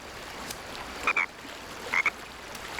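A frog croaks twice in short, sharp bursts, close and clear against a faint hissing background, with a pause between the two calls.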